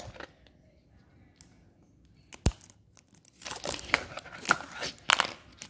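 An Angry Birds toy, the Bomb character, is pulled from a taped package, with close crinkling plastic, sharp tearing tape and a few crunchy rips, quiet at first and busier toward the end.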